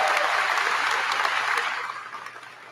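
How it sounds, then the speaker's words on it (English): An audience applauds for parents and families at a high school graduation, steady moderate clapping that thins and fades over a few seconds, with a low steady hum underneath. "Let's go ahead and give them a round of applause, because they are also honorees at tonight's celebration."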